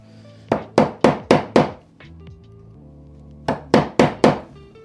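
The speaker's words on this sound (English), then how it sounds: "Just a little bit of chisel work." Chisel struck into a wooden dado while squaring out its rounded end for a shelf: two bursts of four sharp, close, evenly spaced knocks, split by a quiet pause with faint shuffling, no talk.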